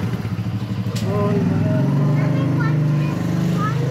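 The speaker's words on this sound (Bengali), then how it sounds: "আমাদের গোলমালের বাইক দেখো।" A motorcycle engine runs close by with a throbbing low putter that rises into a steadier revving drone, while voices speak over it.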